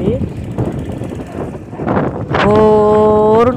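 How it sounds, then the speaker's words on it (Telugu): Strong night wind in a village gusts and roars across the microphone, buffeting a covering sheet, with a voice speaking toward the end. "గాలి విపరీతంగా పెడుతుంది"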